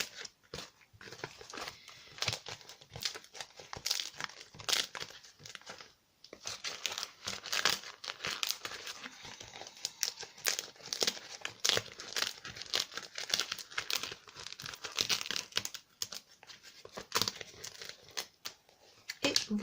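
Close, continuous crinkling and tearing as the edges of a crème paste craft mold are peeled free, with dense irregular crackles running almost nonstop and one brief pause.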